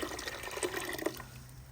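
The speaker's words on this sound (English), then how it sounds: "I'm gonna throw the blended ginger in the water." Blended ginger for homemade Jamaican ginger beer splashes into a pot of water, a brief wet plop and slosh up close, with no talk over it.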